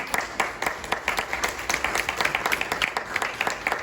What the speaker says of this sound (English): If you join me in giving them a round of applause.